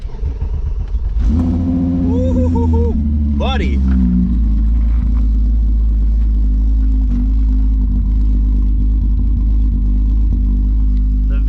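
A VR5 Savoy car engine cranks, catches and roars up to a loud rev, then settles into a steady, rumbling idle while a voice exclaims briefly.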